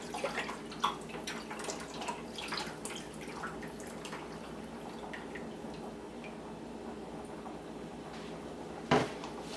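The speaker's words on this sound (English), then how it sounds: "I'm gonna add the rest of my beef stock." Beef stock poured into a pan of oxtails for oven stewing gives a steady liquid splashing with small drips and clinks, then a sharp knock near the end; no voices.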